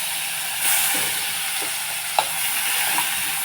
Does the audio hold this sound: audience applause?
no